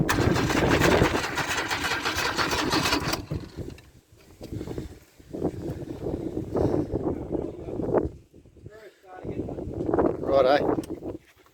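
An engine cranks and starts, then runs with uneven bursts and brief gaps, fairly close and moderately loud, with talk mixed in.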